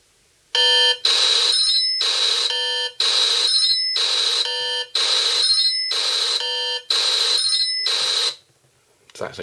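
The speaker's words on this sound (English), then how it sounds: "the next one is a loud ring, which is ideal, obviously, if you lose your BlackBerry around the house and need to locate it." A BlackBerry phone plays its loud ring alert: a series of bright, steady electronic tone bursts about once a second, close and loud, with nothing else behind it.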